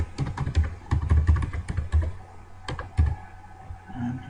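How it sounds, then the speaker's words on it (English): A password typed on a computer keyboard, a close run of quick clicky keystrokes in uneven bursts with short pauses, ending with a few heavier key presses. "here I'll type my password"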